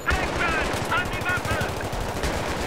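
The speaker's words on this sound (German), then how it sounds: "Oder wird wieder geballert?" Rapid automatic gunfire from a Battlefield 3 video game battle, with loud, dense bursts of shots layered over each other and a player's voice talking over the shooting.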